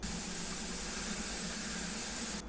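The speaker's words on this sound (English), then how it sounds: "You saw the steam coming out and the float valve popped up." Steam hissing from the quick-release valve of an Instant Pot Duo Evo Plus pressure cooker set to high pressure, a steady, broad hiss at moderate level that runs throughout and cuts off abruptly at the end.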